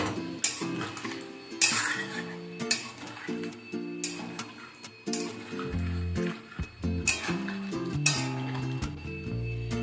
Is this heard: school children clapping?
no